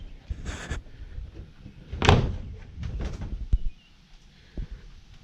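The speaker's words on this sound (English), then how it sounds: "Let's open the doors" Doors of a small 7x7 Rubbermaid plastic shed being opened, giving a few close knocks and thumps with one louder bang in the middle, alone in a quiet outdoor setting.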